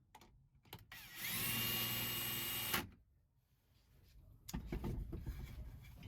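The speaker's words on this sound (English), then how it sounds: "what I'm going to do here is screw in all the screws into the rib nuts" A power driver screws screws into rib nuts in a Transit Connect van: one long whirring run in the middle, loud and close, with quieter handling clatter before and after.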